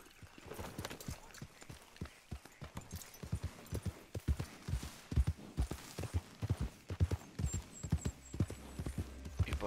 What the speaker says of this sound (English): Cogemos el caballo.